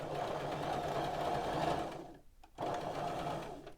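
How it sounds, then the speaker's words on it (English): A sewing machine runs steadily, stitching fabric in a straight line toward a marked corner point, then pauses briefly and starts again, a close, even mechanical whir with no talk. "I'm going to sew straight down to 1 stitch before that dot"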